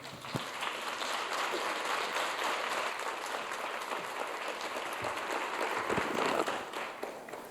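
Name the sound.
audience applause welcoming the speaker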